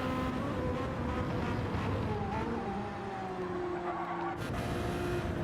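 Racing engine of a Porsche hypercar in hydro aluminum livery, heard in a WEC multi-class endurance race at Fuji in a racing video game: a steady, loud engine drone with shifting pitch, continuous throughout.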